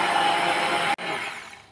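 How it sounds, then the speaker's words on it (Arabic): An electric blender mixing lemon juice with sugar whirs steadily at high speed, cuts out abruptly for an instant, then restarts and runs on, slowly easing off. "ونخلطوه بالبغا ميكسور"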